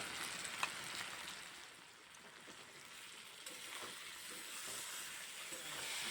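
Taro pieces fry in oil with green chili paste, giving a soft, steady sizzle and hiss in a home kitchen. The sizzle is faint and continuous, with occasional small pops.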